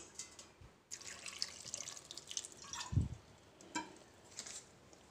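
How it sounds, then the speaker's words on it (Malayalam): Water poured into a pressure cooker holding potatoes, onion and green chillies, heard as soft close drips and splashes with one brief heavier pour, in an otherwise quiet kitchen. "എന്നിട്ട് ആവശ്യത്തിന് വെള്ളം ഒഴിച്ചു കൊടുക്കാം."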